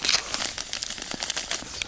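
Plastic bag crinkling and rustling in quick irregular bursts as fish meal is poured out of it for fishing groundbait, close and alone, with no talk.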